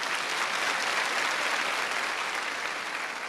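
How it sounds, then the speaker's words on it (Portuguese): A church congregation at a Catholic worship service applauds, a dense, steady wash of clapping from many hands that holds at an even, fairly loud level throughout with no talk over it. "uma salva de palmas para Jesus"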